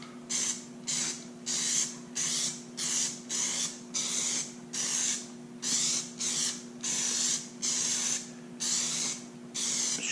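Aerosol protective coating being sprayed onto a metal detector coil in repeated short bursts of bright hiss, about a dozen evenly spaced blasts separated by brief pauses, close and loud over a steady low electrical hum.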